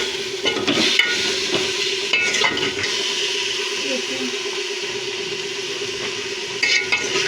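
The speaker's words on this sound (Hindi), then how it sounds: "हमने इसे अच्छी तरह से भूनते रहना है।" Beef stew meat with a couple of cloves frying in a pot, a steady close sizzle and hiss with occasional stirring scrapes running through the whole stretch.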